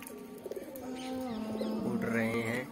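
Pet pigeons coo in a low, rolling, steady murmur, with several overlapping birds close by and a few higher chirps near the end, forming a continuous flock sound.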